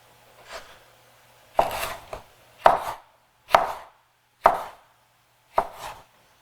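Six distinct knife chops through a jalapeno on a cutting board, spaced about a second apart after one faint first tap, close and crisp with silence between strokes.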